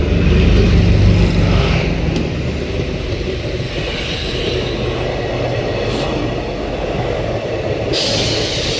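A passenger train rolls steadily past on the line at Bhalwani station, a loud continuous rumble of wheels and carriages with occasional higher squeals and clatter, heard close by without talk over it.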